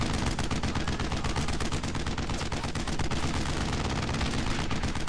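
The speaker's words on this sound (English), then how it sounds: "Come on, fire the main cannon." Dense, continuous gunfire and heavy cannon blasts from a WWII battle in the video game Brothers in Arms: Earned in Blood, with a tank's main cannon firing amid rapid rifle and machine-gun shots, loud and unbroken throughout.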